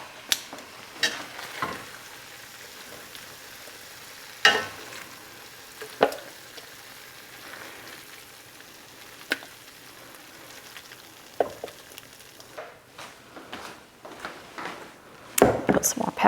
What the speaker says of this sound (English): my onions are browning up nicely, so I'm going to get some of those into this round with the tomatoes